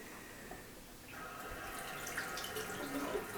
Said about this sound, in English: we've turned the water on, he just needs to check it's not leaking. Just try the taps.